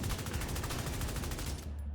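Rapid automatic rifle fire from the Exotic Big Horn in The Division 2, a dense, evenly spaced string of shots that stops abruptly near the end, loud and close with no talk.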